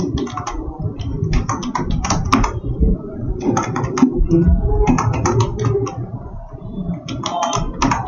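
Rapid keystrokes on a computer keyboard arrive in quick clustered bursts with short gaps between them, loud and close over a steady low background hum.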